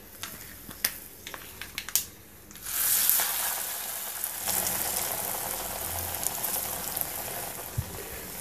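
Mango ginger pickle mixture hitting hot tempering oil: a few clinks and taps, then a sudden loud hissing sizzle that settles into a steady crackling fry, close and alone.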